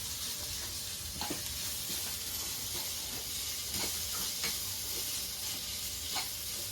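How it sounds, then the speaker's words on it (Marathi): Fried paneer tossed with vegetables in a hot pan: a steady sizzle and hiss of frying with scattered scraping stir sounds, close and continuous throughout. "पनीर फ्राय करून घेतले होते ते या आपण भाज्यांमध्ये मिक्स करून एकदा पुन्हा परत मिक्स करून घेणार आहोत"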